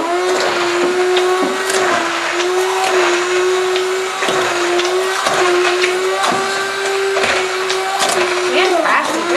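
Electric mixer beats two very ripe bananas into banana bread batter, a steady loud motor whine with periodic thumping dips as the beaters churn the mash, while people talk over it.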